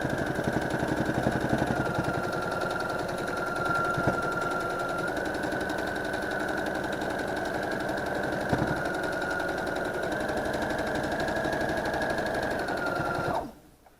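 A sewing machine stitches steadily along a quilt seam, a continuous close mechanical whir with rapid rhythmic needle ticking that runs almost the whole time, then stops abruptly near the end.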